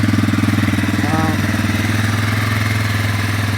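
A 2003 Yamaha TTR225 four-stroke motorcycle engine idles nearby with a loud, even, rapid low chugging pulse that holds steady throughout.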